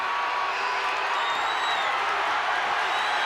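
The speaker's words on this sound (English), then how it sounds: "And the crowd is erupting here. This capacity crowd coming apart." A capacity arena crowd at a wrestling event erupting in a steady, dense roar of cheering and shouting, loud and continuous from start to finish.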